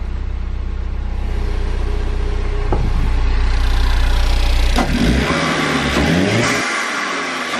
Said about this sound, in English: So now you can actually hear the bypass valve.